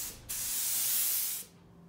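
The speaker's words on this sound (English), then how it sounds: "I can then go back and spray on a glossier version of the same resin to give it the painting that final sheen that I'm looking for." A steady hiss of glossy resin varnish sprayed onto an old master painting during conservation, one continuous burst of about a second with a clean start and stop.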